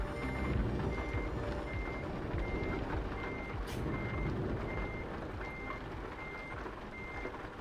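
In Euro Truck Simulator 2, a reversing truck sounds a steady, evenly spaced series of backup beeps over a constant low engine rumble, with no talking.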